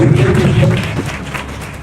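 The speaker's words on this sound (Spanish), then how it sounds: "Denle un fuerte aplauso al Señor" Applause for the Lord at a church service, a congregation clapping steadily together as a dense, loud patter that fades slightly toward the end.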